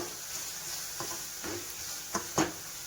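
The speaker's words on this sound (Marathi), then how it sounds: "आणि आपली डाळ पूर्ण मिक्स करायची" Dal and onion sizzle in a kadhai with a soft steady hiss, broken by a few quick spatula scrapes and knocks against the pan near the end, close and with no voices.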